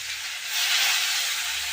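Chopped onion hits hot oil with bay leaf, cardamom and cinnamon, giving a soft, steady sizzling hiss that swells briefly and stays even.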